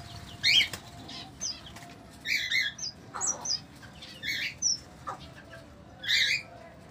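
Finches in an aviary flutter their wings in soft bursts, mixed with scattered high chirps and tweets. The sounds are faint and spread through a quiet background.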